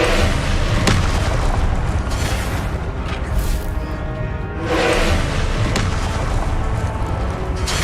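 Booming fire-spell explosions from the Confringo curse in the Hogwarts Legacy video game, dense and loud throughout with repeated blasts and crackling bursts over a continuous rumbling roar.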